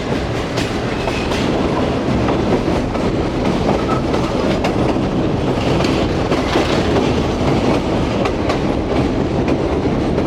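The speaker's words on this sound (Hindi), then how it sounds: "तो ये आ गया है जी दरिया रावी के ऊपर बना हुआ रावी ब्रिज, जिस पर से हमारी शालीमार एक्सप्रेस गुजरने के लिए बिल्कुल तैयार है।" The Shalimar Express passenger train rolls across the Ravi river bridge near Lahore, a loud, continuous rumble with rhythmic clickety-clack of wheels on rails and faint squeals, heard close up from on board without talk.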